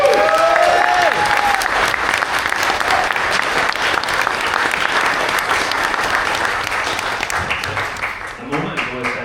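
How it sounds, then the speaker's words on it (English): Sustained, loud audience applause fills a grand hall at a whiskey festival finale, steady clapping from a large crowd that slowly tapers near the end, with a voice briefly audible at the start and close. "really a round of applause then to our two MCs for the evening."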